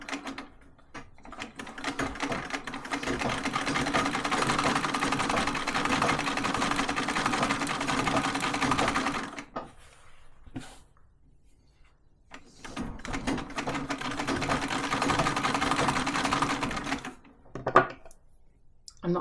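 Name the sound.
treadle sewing machine quilting a table topper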